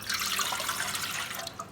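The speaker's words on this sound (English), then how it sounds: "we're going to add in our water" Water pours in a steady splashing stream into a bowl for pizza dough, close and fairly soft, lasting under two seconds.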